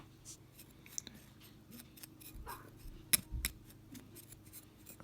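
Scissors snip cotton wick for a Voltrove 35v3 vape coil, giving several quiet, sharp clicks and cuts close by amid faint rustling handling noises.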